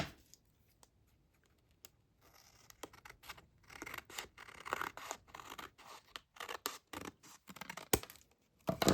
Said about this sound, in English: we're going to trim this just a little bit